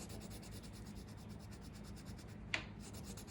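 Soft, faint scratchy rubbing of a red-orange colored pencil shading on paper, a steady close stroking texture with one brief sharper tick near the end and no talking.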